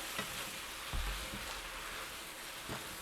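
Rice stir-fried in a pan over high heat makes a quiet, continuous sizzle, broken by a few soft knocks and scrapes from stirring, with no voices.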